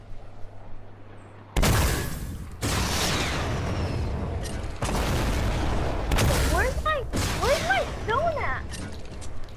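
Gunfire and impact blasts from the video game Fortnite, a series of loud, dense bursts across the stretch, mixed with game effects and talk.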